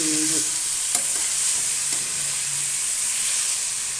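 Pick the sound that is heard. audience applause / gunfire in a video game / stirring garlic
stirring garlic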